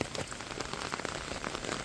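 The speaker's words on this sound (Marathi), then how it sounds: "आणि पाऊस कंटिन्यू पडतोय" Steady heavy rain patters densely on surfaces near the Savatsada waterfall, a continuous hiss of drops with no voices.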